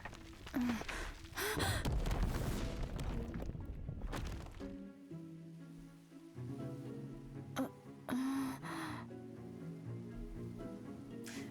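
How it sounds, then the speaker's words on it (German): A female character in Another Code: Recollection pants and gasps heavily while running, loud breathy gasps in the first seconds, then quieter game music with a few more breaths. "Wer schnauft bitte so beim Rennen?"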